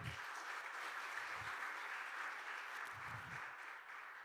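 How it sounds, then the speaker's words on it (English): Congregation at an Easter Sunday church service gives a round of steady, even applause, quiet and somewhat distant, holding for several seconds before easing slightly. "Could you guys give one more round of applause for 9 to 12?"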